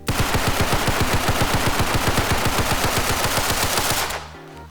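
Rapid automatic gunfire from a weapon in the Roblox game Criminality, a long continuous burst of evenly spaced shots, loud and close, ending abruptly as the firing stops near the end.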